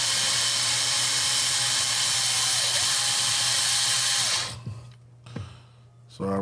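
A loud, steady high-pitched electric drill whine runs for several seconds during an RC TRX4 chassis kit build, then cuts off, leaving quieter handling noises.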